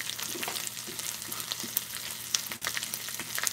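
Chorizo frying in hot oil for egg and chorizo burritos, a dense, steady sizzle with crackling pops and spatters throughout, close and fairly loud with no voices.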